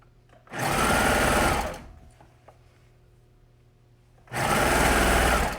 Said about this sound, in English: I'm going to put my foot down and start sewing.